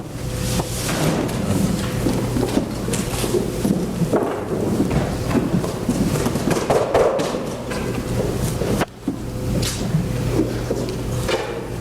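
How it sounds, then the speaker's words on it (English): Rain falls with rumbling thunder as a sound effect in a stage play, a dense continuous downpour broken by low booms and thuds across about twelve seconds, loud and filling, with no talking over it. "It's raining."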